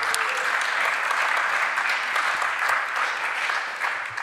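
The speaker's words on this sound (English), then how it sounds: "Let's give them another round of applause so we keep the energy up" Sustained, dense applause from a conference audience for a panel of speakers at a COP28 health session, steady and even throughout with no break.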